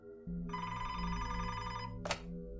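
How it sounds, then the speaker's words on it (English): A telephone bell ringing in one sharp, loud burst that starts abruptly and holds steady for about two seconds before cutting off, over a low background hum. "Fitzgerald's phone suddenly rang"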